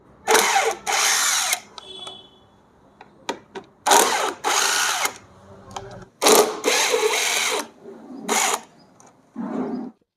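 Scooter brake cover bolts being loosened with a power tool, several loud whirring bursts of a second or so, separated by short pauses, close and without talk.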